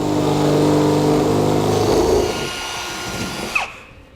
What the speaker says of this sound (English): I'm going to come back with a 1/2 inch drill bit and drill the rest of the hole out